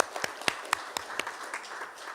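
A small conference audience at a climate transparency discussion applauds the speaker Julia, sparse, distinct handclaps ringing out fairly close, thinning toward the end.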